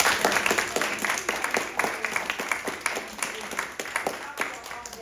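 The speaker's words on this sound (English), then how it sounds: "Can we just give a round of applause?" Audience at a church earth care class breaks into steady applause, dense overlapping claps sustained throughout at moderate volume, with a few voices mixed in.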